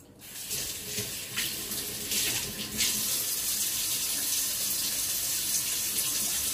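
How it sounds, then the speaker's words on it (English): A kitchen tap runs steadily while a plate is rinsed under it, the water hiss rising after a few seconds and continuing loud and close without talk. "Rinse your plate this way."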